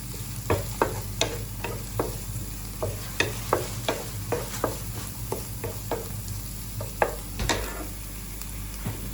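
Chopped okra frying and being stirred in a pan, a constant sizzle punctuated by a dozen or so sharp scrapes and clinks of a spatula against the cookware, close and unhurried.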